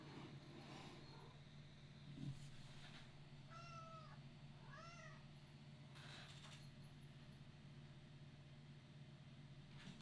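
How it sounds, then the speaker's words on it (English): Vocal house cat meowing nearby, two or three drawn-out mews in the middle of the stretch over a steady low hum and faint background noise. "that cat is a very special cat. She's very vocal."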